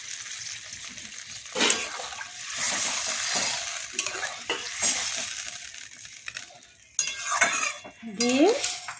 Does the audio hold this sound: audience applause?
no